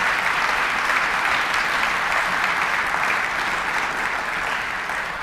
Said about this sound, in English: So how about another round of applause for all the teachers that have helped them get to this point.